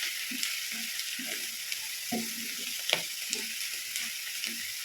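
Spinach and salt are mixed in a pan, giving a soft, constant frying hiss with scattered scraping and tapping stirs close by.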